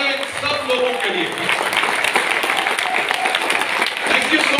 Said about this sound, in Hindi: जोरदार तालियां इन सब लोगों के लिए